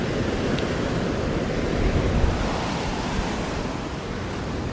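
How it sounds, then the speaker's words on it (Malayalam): Rough, storm-churned sea waves crash against a seaside house and its wall in the rain, a loud, continuous, roaring wash of surf with no pauses and no voices. "ഈ ഒരു കടൽ പ്രക്ഷുബ്ധം എത്രത്തോളം പ്രക്ഷുബ്ധമായി എന്നുള്ളത് നമ്മൾ നേരിട്ട് കാണുകയാണ്"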